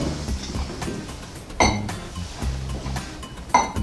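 Glass beer bottles clink as they are handled and opened, giving a few sharp close clinks spread over a few seconds, with low handling noise between them.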